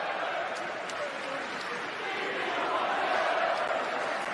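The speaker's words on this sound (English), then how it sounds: "Here is Dame Lillard at the line with the Sixers crowd getting into it." Philadelphia 76ers home crowd roaring and jeering at Damian Lillard on the free throw line during an NBA game, a dense, continuous arena crowd noise, loud and diffuse, with no clear individual voices.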